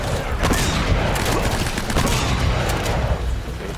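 Shotgun blasts in the Uncharted: Drake's Fortune video game, several loud booming shots in quick succession amid dense action noise.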